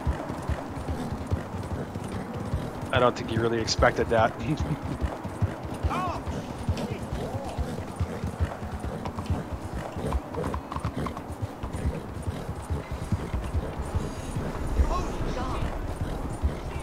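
Horse hooves clip-clopping steadily while riding in the video game Red Dead Redemption, a continuous galloping rhythm under someone talking throughout.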